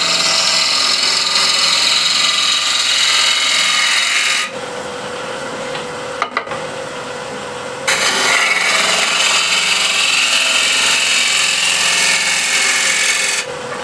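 A wood lathe shapes a ball at the foot of a tenon with a loud, steady, close rasping cut that drops to a quieter spinning hum for a few seconds and then resumes. No one talks.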